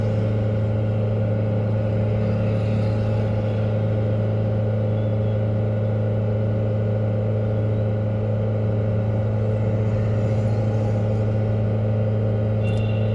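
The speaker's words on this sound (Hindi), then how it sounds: "मैंने पूरा कोशिश की है कि उसको 3000 RPM से ऊपर का ही सेट किया हुआ है।" Car engine held steadily above 3000 RPM during diesel particulate filter regeneration, a loud, constant droning hum with no change in pitch throughout.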